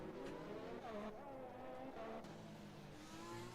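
Formula 1 race cars in a video game at the Monaco Grand Prix, with continuous engine whine and revving, gear shifts and cars passing, heard steadily from an onboard exhaust-level view.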